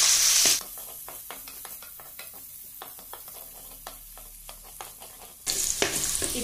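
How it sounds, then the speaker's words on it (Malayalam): Ginger, green chillies and curry leaves are sautéed in a pan, crisp crackling sizzle with repeated spatula scrapes, bracketed by louder bursts of hissing at the start and end. "പിന്നെ പച്ചമുളക്, വേപ്പില ഇത്രയും കൂടി ഇട്ട് നന്നായി ഒന്ന് വഴറ്റിയെടുക്കാണ്."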